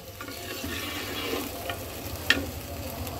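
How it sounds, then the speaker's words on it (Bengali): Country chicken pieces frying in oil with spice masala, a soft steady sizzle close by with occasional stirring sounds and one sharp utensil clink, no voices. "দেখো মাংসটা কিন্তু খুব সুন্দর তেলের মধ্যে কষানো হয়ে গেছে।"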